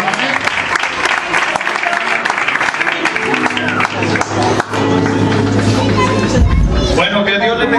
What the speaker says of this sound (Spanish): Un fuerte aplauso para la gloria del Señor.